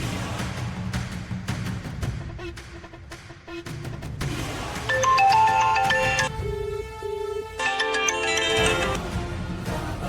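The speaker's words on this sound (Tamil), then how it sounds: "சீனியர், ஜானுக்கு கொஞ்சம் ஃபோன் பண்ணி கொடுங்க" A phone rings in a tonal, repeating electronic pattern that grows louder partway through, mixed with background music and noise in a Tamil TV drama scene.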